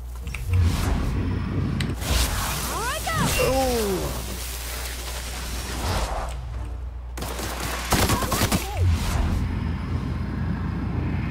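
Gunfire against monsters in The Outer Worlds, bursts of rapid shots and weapon effects over game sound, with a voice talking at times.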